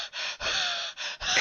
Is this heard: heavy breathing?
yes